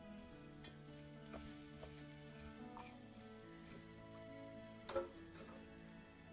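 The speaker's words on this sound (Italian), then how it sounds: "Ora ci siamo, posso rimettere in padella i carciofi." Artichokes going back into a pan with rice for risotto, sizzling and frying quietly with faint stirring and a brief clink of utensil against the pan near the end.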